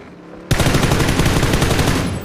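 Loud, sustained automatic gunfire in a video game. It erupts abruptly and rattles on continuously in a dense, rapid stream of shots, with no talking.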